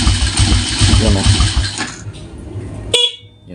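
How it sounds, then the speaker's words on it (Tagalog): A single short, bright honk from a motorcycle horn, preceded by low engine rumble and clicking that fades before the beep. "dyan pa rin yung busina"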